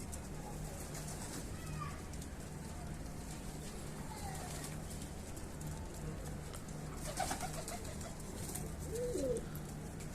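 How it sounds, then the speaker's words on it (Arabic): Pigeons coo faintly here and there on a rooftop over steady background noise, with a few soft bird calls scattered through. "بس الطيور كلها خايفة."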